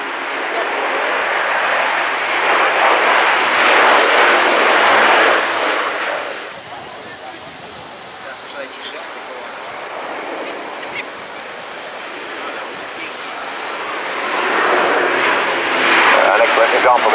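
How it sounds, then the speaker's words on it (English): Propeller-driven military aircraft flying a steep 60-degree nose-down approach with propellers in fully fine pitch at an air show at RIAT Fairford, a loud continuous engine and airscrew roar that dips in the middle and swells again. "An excellent example there of a 60 degrees nose down steep approach with propellers in fully fine, which kind of work as an air brake"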